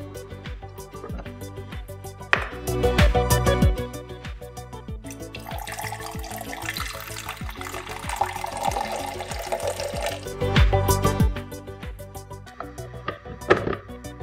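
Water poured into a Preethi Cafe Zest CM 210 drip coffee maker, about 125 ml, with a steady splashing trickle amid clinks and small knocks of handling, close and moderately loud, no talking.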